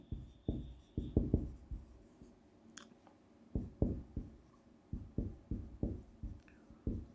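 Chalk or marker strokes on a lecture-hall board during an electrical engineering class on resistance, a series of close, irregular scratchy taps and short scrapes with brief pauses between bursts.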